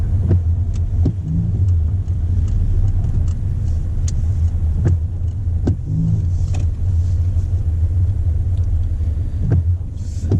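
Car on a mock driving test in Oxford, slowing and pulling in to park behind another car, with a steady low engine rumble inside the cabin and a few faint clicks and knocks.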